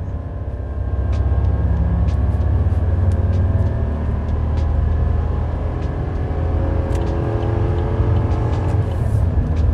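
Gas 6.6L V8 (L8T) in a Chevy 2500 pickup accelerating at full throttle from 60 to 110 km/h, a steady loud engine roar with low rumble and rising tone throughout, no talking.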